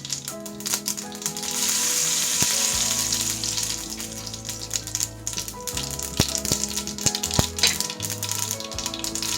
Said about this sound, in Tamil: அடுத்தது கொஞ்சமாக சீரகம் ஆட் பண்ணுறேன்.